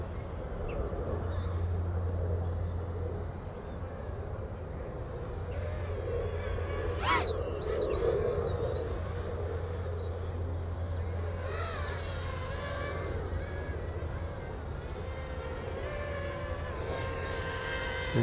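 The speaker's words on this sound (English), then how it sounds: "Sounds, motors sound good, props sound good. Not much flutter." An A-Max Akitainu micro FPV drone flies with its small motors and propellers, giving a steady, smooth high whir that holds nearly constant throughout, close and continuous.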